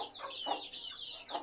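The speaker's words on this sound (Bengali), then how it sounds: "সাদা গলা ছিল মোরগ।" A young white naked-neck rooster clucks in a rooftop cage. The short, throaty clucks come close together and sit clear of any talk.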